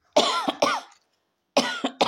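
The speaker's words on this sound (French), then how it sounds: "J'ai une toux aujourd'hui qui me saoule." A person coughs close up in two quick double bursts separated by a short pause, alone with no other sound.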